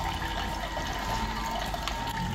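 Fresh ginger juice runs from a cold-press juicer in a steady, close liquid stream, with a low motor hum underneath and no talk.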